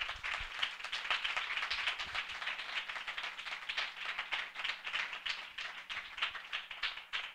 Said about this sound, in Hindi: हम जोरदार तालियों से उनका स्वागत करें।